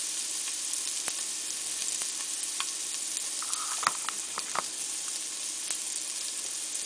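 Pork rib roast browning in a pressure cooker, a steady close sizzle and hiss with occasional sharper pops and spatters of fat, no voices over it.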